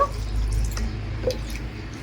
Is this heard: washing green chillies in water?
yes